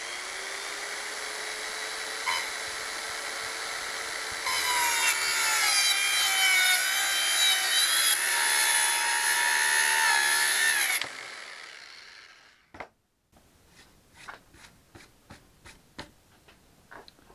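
A Teccpo mini circular saw runs with a high steady whine that grows louder and rougher as the blade bites into wood, then winds down and stops, followed by a few light knocks and clicks.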